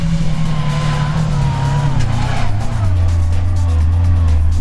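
An off-road car, such as a Niva, UAZ, Toyota or Duster, accelerates up a muddy hill. The close, loud engine roar climbs and then drops in pitch as it strains and shifts, with wheel spin and faint voices in the background.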